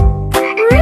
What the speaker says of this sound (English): It's a frog. Frog says ribbit.